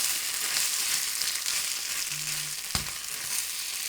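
Spaghetti all'assassina fries loudly in a hot pan with a continuous crackling sizzle, broken by a short clatter as the pasta is flipped over, with no talking.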